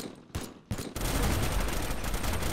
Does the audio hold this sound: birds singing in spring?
no